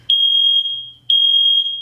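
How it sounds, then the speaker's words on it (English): A smoke alarm sounds two long, loud, piercing electronic beeps with a short gap between them, close by. No one speaks over it. "is that an alarm? The fire alarm?"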